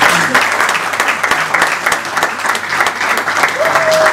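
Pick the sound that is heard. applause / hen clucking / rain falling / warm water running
applause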